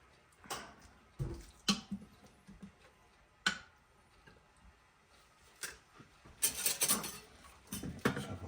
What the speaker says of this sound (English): Ladle. Don't be afraid to scoop it in.